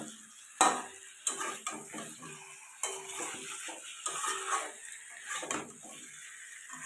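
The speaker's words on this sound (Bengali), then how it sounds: "চিকেনটা দিয়ে আমি কিন্তু ভালো করে এখন কষাতে শুরু করে দিয়েছি।" Chicken pieces stirred and browned in a pan for a potato chicken curry, with repeated sharp scrapes and clinks of a spatula against the pan over a low sizzle, close and alone.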